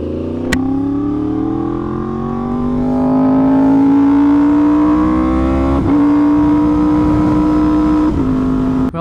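Yamaha R1M sport bike engine revving while being ridden, a steady, rising harmonic drone that climbs in pitch with brief gear-shift dips, close and loud throughout with no talking.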